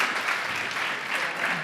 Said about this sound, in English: How about a big round of applause for this wonderful panel?